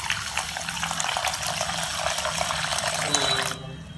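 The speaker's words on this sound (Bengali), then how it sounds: "চালগুলোকে জল দিয়ে ভালো করে ধুয়ে নিতে হবে। দিয়ে দিচ্ছি জল।" Water is poured over Gobindobhog rice for washing, a steady close gushing splash that runs for a few seconds and then cuts off.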